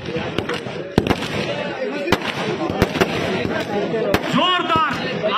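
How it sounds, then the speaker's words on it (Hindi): Fireworks burst repeatedly during a lively event, with sharp loud cracks spaced about a second apart over a bed of crowd noise and talking, followed by whistling fizzes near the end. "जोरदार आतिशबाजी"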